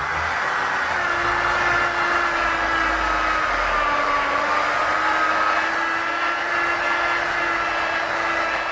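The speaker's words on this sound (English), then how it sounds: "Do not constantly drill polish in one area, as there is a risk of overheating the surface of the headlight lens." A drill fitted with a polishing pad buffs a car headlight lens, giving a steady, continuous high-pitched whine with a faint hum underneath, close and loud throughout without pauses or speech.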